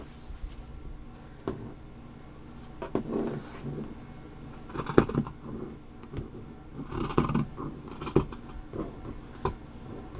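Scissors cut through pants fabric to shorten a hem, giving a series of short irregular snips and rustles close by, with quiet gaps between cuts.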